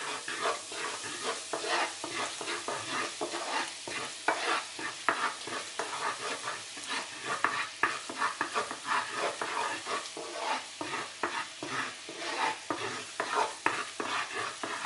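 Flour toasts in a dry pan until brown while being stirred constantly, giving a close, continuous scraping and rustling with a low sizzle, the spoon strokes coming in quick uneven rhythm.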